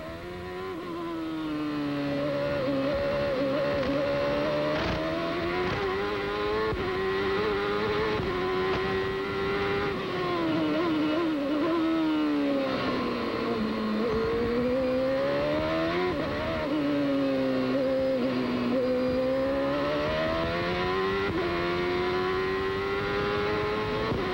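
Robby Gordon's CART race car at the 1995 Toronto street race, its engine screaming loud and close throughout a lap, pitch rising and falling through repeated upshifts and downshifts with no talk over it.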